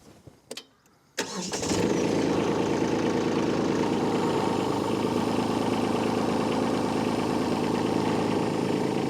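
A Kubota B2601 compact tractor's engine starts after a few clicks, then settles into a steady, loud, close diesel idle that continues to the end.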